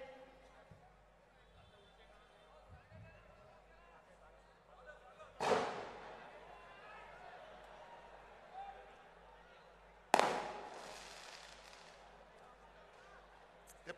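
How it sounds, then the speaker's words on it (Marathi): Two sharp, loud firecracker bangs burst several seconds apart at an outdoor political rally in Mahad. Each one rises out of a steady murmur of crowd and speech, then decays. "ते फटाके सुद्धा शिवसैनिकासारखे एकदा पेटले का ऐकत नाहीत?"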